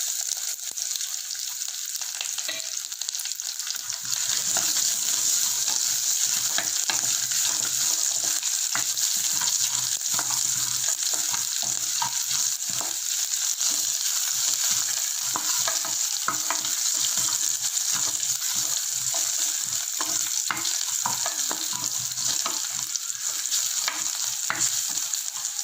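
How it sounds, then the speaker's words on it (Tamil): Crushed garlic cloves fry in a pan for curry leaves kuzhambu, giving a steady, close sizzle with intermittent stirring scrapes throughout and no talking. "பூண்டு வறுபட்டுடுச்சு."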